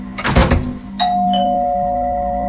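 An electronic doorbell chime rings once at night, a clear sustained tone that follows a muffled thud of a door closing, close by and alone with no talk.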